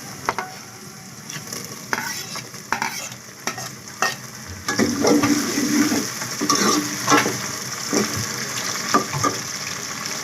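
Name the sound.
tomatoes frying and being stirred with a spoon in a pan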